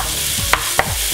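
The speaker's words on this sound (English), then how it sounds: "You can hear them sizzling away." Onions sautéing in oil in a pan while making Italian meatballs, a steady soft sizzle under two brief sharp stirring clatters, close and fairly quiet, with no talking.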